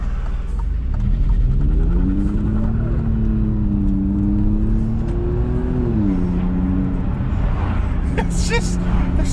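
An Alfa Romeo 4C pulls away hard in first gear from a road junction, its engine note climbing, holding and rising again in a close, raspy drone that runs under a voice.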